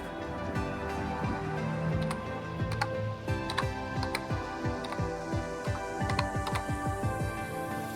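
Rapid, uneven clicking of computer keyboard keys as a shop name is typed into accounting software, close and dry, with short pauses between bursts of keystrokes and no voices.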